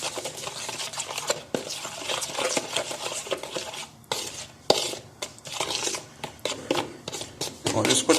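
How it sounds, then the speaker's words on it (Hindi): A spoon stirs tikka masala marinade in a bowl with clinking, scraping strokes that rise and fall in an uneven rhythm, close and fairly loud. "अभी इसको अच्छी तरह से कर लेंगे मिक्स।"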